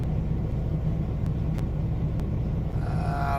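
A truck engine drones while driving along a road in Amargosa Valley, a steady low rumble with road noise and a few faint clicks, no voices heard.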